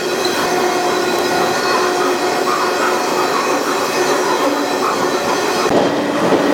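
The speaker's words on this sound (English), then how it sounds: "This train is roaring through another dismal Indiana town." A train roars past nearby through a town in Indiana, a loud continuous rumble with metallic squeal and rattling wheels throughout.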